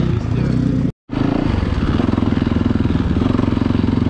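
A Yamaha YZ450FX dirt bike engine pulses under engine braking while riding, a close, rapid throbbing thump with a brief cut near the start, partly mixed with wind.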